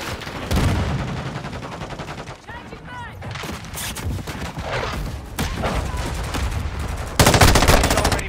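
Rapid bursts of automatic gunfire and single shots from the video game Modern Warfare 2, loud and close, repeating in clusters with brief lulls and sharp booms near the end.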